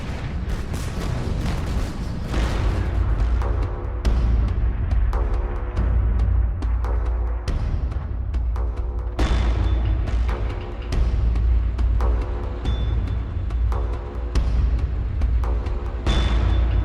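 World War I artillery barrage during a massed infantry and tank advance: continuous deep booming explosions, one after another in heavy succession, with a constant low rumble between blasts and no voices.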